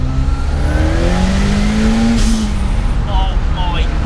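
A 564 BHP Ford Escort Cosworth with a big GT30 turbo, fully forged engine and straight-cut gears pulls hard in second gear, its engine rising steadily in pitch and loud throughout while a person talks over it.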